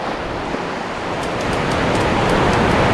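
Broad, steady rush of ocean surf rising slightly in loudness, a dense wash of breaking water with faint crackling on top and no voices.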